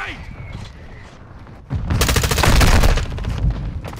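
Bursts of automatic gunfire and explosions in Call of Duty: Modern Warfare II, starting quieter then erupting into loud, sustained fusillade of rapid shots with a heavy boom, dense and continuous through the rest of the moment.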